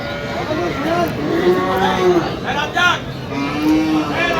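Several Sahiwal cattle, cows and bull calves, moo loudly one after another, long drawn-out calls overlapping amid a busy outdoor crowd murmur at a cattle market.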